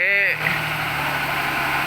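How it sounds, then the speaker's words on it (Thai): A ten-wheeler truck engine drives a rubber creping machine that presses lump rubber into sheets, with a steady mid-pitched diesel drone and vibration running throughout after a brief tonal whine at the start. "เครื่องยนต์10ล้อนะครับเครื่อง10ล้อ มาปั่นเครื่อง เคฟนะครับท่านผู้ชม"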